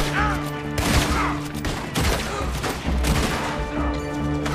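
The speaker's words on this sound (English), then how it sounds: "I'm getting shot from behind" Gunfire in Red Dead Redemption 2 booms through a bank robbery scene, several heavy shots and volleys cracking loudly over a sustained musical drone and background game sounds.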